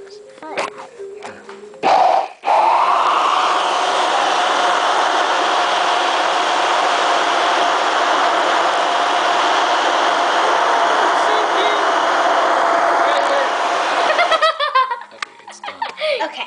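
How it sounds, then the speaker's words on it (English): A blender loudly whirs for a long, steady stretch while mixing fruit smoothies at home, starting and stopping abruptly, with people talking and laughing briefly before and after. "We need a bit bigger blender at"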